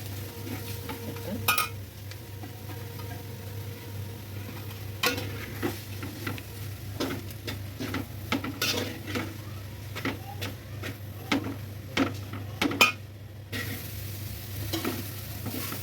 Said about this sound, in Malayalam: സോയാ ചങ്ക്സ് ഇട്ടിട്ട് നല്ലോണം ഇളക്കി നല്ലോണം യോജിപ്പിക്കണം.